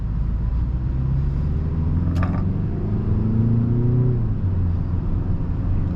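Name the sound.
BMW 330i car driving slowly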